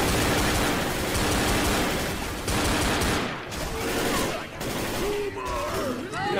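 Gunfire in the video game Left 4 Dead comes in dense, loud, rapid bursts through the first half, then thins to scattered shots mixed with other game noises.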